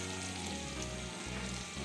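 Tomato paste hits spices frying in oil in a pan, producing a loud, dense, unbroken sizzle close up with no voices.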